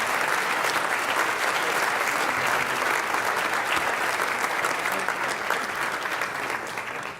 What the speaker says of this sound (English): I think we should have another round of applause for every story we've heard tonight